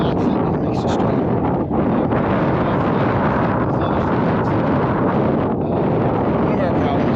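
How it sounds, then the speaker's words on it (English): Strong wind battering the microphone outdoors at a farm, a loud, continuous roaring rumble with gusty buffeting that stays steady throughout. "One of our problems is the wind."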